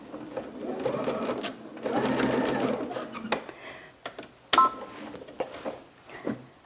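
A sewing machine shirrs fabric with elastic thread, giving a close, steady mechanical whirr in two bursts, then lighter clicks and short stitching runs as it back stitches.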